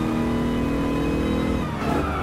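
A race car in Gran Turismo Sport, held in a very long fourth gear, climbs slowly through its revs with a steady, strained engine drone that rises gradually before a brief shift near the end.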